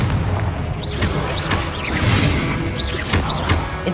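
Repeated Confringo blasting spells in Hogwarts Legacy burst with booming, crashing explosions and whooshing streaks, coming in quick succession over continuous loud battle noise.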